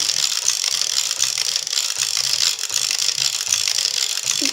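A Passap Tricofit knitting machine carriage runs steadily across the needle bed, knitting loops with a continuous mechanical ratcheting clatter up close, with no voices.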